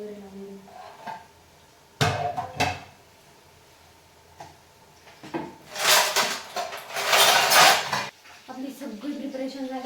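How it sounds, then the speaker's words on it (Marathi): Pots and dishes are put away in a home kitchen: several sharp clatters and knocks of cookware, then a longer stretch of scraping and rattling, with a voice speaking now and then. "तोपर्यंत तिकडं आपण भांडे वगैरे लावून घेऊ"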